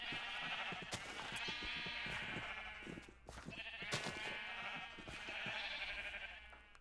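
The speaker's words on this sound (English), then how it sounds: "Did this other sheep grow his white wool back yet?" Sheep in the video game Minecraft bleat in a few quick repeated calls, fairly close and clear, with faint clicking game sounds around them and no talk.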